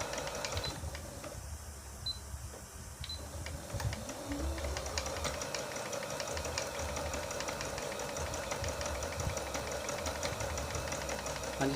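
A Singer Computer 7900 sewing machine overlock-stitches fabric at a reduced speed, giving a steady, continuous mechanical whir with fine rapid ticking that runs unbroken close by.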